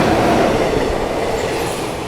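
A train rushes past on the adjacent track, seemingly a Ghaziabad local set hauled by a WDP-type locomotive, heard from a moving express: a loud, steady broadband roar with wheel rumble throughout, no voices.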